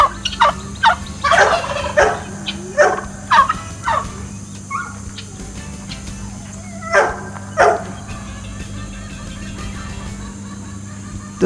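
Hunting dogs used for wild hog hunts bark in repeated sharp bursts outdoors, mixed with turkey gobbles, the barks spaced irregularly and fairly close over a steady low hum.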